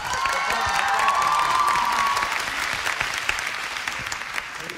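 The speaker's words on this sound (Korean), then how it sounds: "여러분 큰 박수 부탁드립니다." Audience applause at the MBC Drama Awards, a broadband wash of many hands clapping that stays steady and loud throughout, with a sustained sung or whistled tone rising over it early on and faint cheering mixed in.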